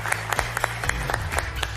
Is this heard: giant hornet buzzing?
no